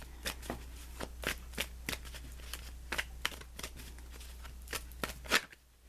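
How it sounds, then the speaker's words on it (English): Tarot cards being shuffled in a quiet room, a steady run of crisp riffling bursts, close and clear, with no talking. "Let me draw you an additional guidance card."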